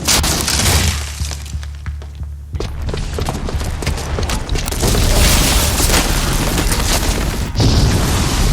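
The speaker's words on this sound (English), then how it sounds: "the booby trap on the bomb downstairs is gonna get set off" A bomb blast in Horizon Zero Dawn: loud booming and shattering debris rumble through the scene after a brief dip, with crashing, crackling destruction continuing densely to the end.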